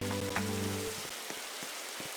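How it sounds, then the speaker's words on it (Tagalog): Steady rain patters on a surface, with a faint hum fading out early and scattered drops tapping through the hiss. "Umuulan na nga eh."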